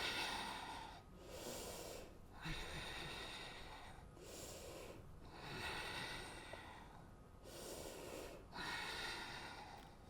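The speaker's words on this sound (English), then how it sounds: "And breathe." Slow, deep breaths during a core yoga exercise, roughly four cycles of long inhales and exhales in a steady rhythm, close and soft with no talking.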